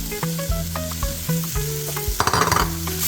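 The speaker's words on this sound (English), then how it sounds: "And keep stirring, because at this time the roux is hot." Mixed bell peppers and celery sizzle and hiss in a pan of hot roux while being stirred, with steady frying noise, intermittent scraping strokes and a louder burst of sizzle near the end, close up and without talk.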